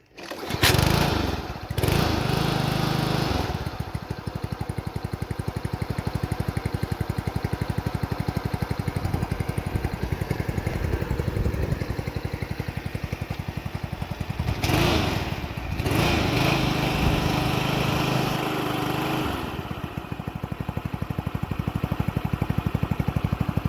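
A $200 Bunnings lawn mower's small petrol engine, flooded earlier, runs loud and close at a rough steady idle, with brief revs and short dips in its buzzing throb.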